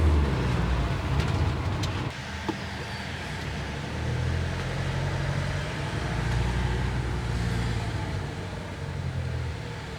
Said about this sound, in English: There's a lot of traffic, so I'm glad I left myself this amount of time